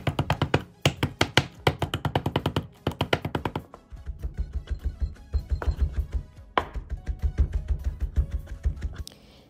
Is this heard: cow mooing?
no